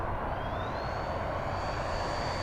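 A Freewing F-14 Tomcat RC jet makes a fast pass at partial throttle, a steady loud whooshing roar with a rising whine that levels off, no voices.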